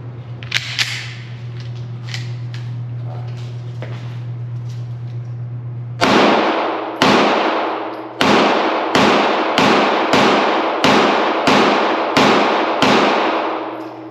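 Pistol shots from a Springfield Hellcat Pro at a range, ten sharp cracks fired one after another at a steady pace in the second half, loud and close, after a stretch of low humming background.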